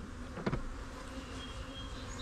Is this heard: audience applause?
no